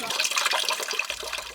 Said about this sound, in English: It is a miracle to see water flowing from a faucet in the Sahara